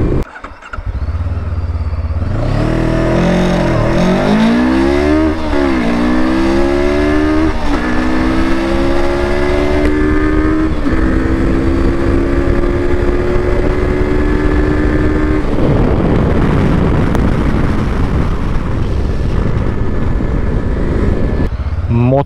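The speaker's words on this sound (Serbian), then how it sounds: "Evo nas ovdje sada da snimimo ubrzanje" A vehicle with a 47.6 horsepower engine accelerates hard, the engine note climbing through several gear changes, loud and close from start to finish, with a voice talking over it.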